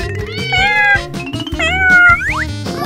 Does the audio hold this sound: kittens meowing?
yes